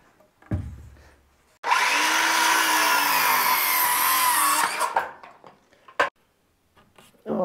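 A power tool trims boards for the floor of an ICF cabin, a loud whining cut of about three seconds that follows a sharp knock and gives way to scattered clatter and brief talk.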